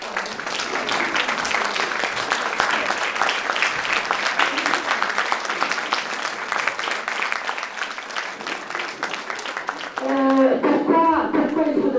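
Audience at an international preschool education colloquium applauds educators standing up, a dense, steady wash of clapping lasting about ten seconds before a voice rises over it at the end.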